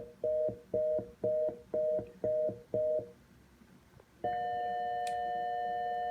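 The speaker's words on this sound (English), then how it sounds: "precise reorder" A telephone switch tone plant chip, heard through an old Western Electric earpiece, gives a precise reorder tone as six quick, evenly spaced beeps, followed after a short gap by a steady continuous tone.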